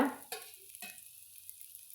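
Mudakathan keerai dosa batter frying in groundnut oil on a griddle: a few quick hissing sizzles and scrapes in the first second, then fading to near quiet.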